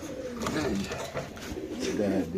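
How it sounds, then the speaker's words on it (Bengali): Soft, low cooing of a pair of racing pigeons close by, a couple of rolling coos over a steady murmur of background noise, at a pigeon farm. "এখানে আছে এক জোড়া কবুতর"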